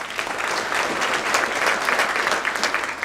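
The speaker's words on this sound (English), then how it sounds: "Let's give him a round of applause." Steady applause from a luncheon crowd at a touchdown club fills a room for an athletic director, a dense wash of clapping that holds evenly for a few seconds with no talk.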